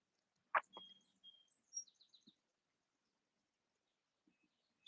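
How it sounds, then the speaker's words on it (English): Birds chirp and tweet outdoors in a few short, fairly faint calls and trills, with quiet gaps between them. "So I hear the bird song tweeting outside"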